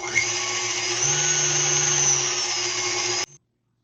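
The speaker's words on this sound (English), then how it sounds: "we're going to whisk it so we kind of get some peaks action going on" An electric whisk whips a banana mousse mixture with a steady, loud, high motor whine for about three seconds before it cuts off abruptly.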